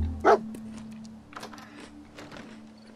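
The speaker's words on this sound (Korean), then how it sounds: "댕댕이 이름은 도그밋이었구나." Dogmeat, the dog companion in the video game Fallout 4, lets out a single sharp bark near the start, followed by quieter game ambience and a faint steady hum.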